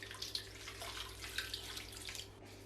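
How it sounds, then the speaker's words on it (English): Water poured from a container into rye sourdough dough being mixed from flour and starter, a quiet, steady trickling splash lasting a few seconds. "I'm going to put the water straight away."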